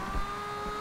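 A 1969 Nissan Fairlady Z engine in the Forza Horizon 2 racing game, a brief, fairly quiet sustained engine tone with a steady harmonic whine, heard alone.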